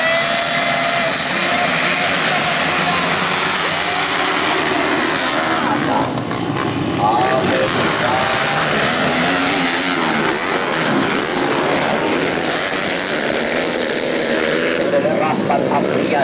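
Loud, continuous roar of several motocross bike engines revving and droning together at a motocross race, with a crowd or announcer faintly underneath.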